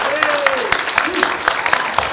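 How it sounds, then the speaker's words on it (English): Audience applause for the candidates at the close of a 2021 Virginia Republican gubernatorial debate, a steady rolling clatter of many hands with a louder burst near the end. "let's one more great round of applause for all of our candidates tonight"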